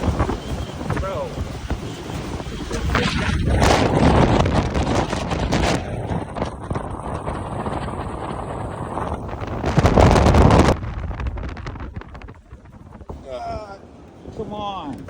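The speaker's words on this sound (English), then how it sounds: "Ah, it's so windy." Strong, gusty South Dakota wind at a roadside gas stop roars and buffets the microphone throughout, swelling into louder blasts. Voices talk intermittently under it.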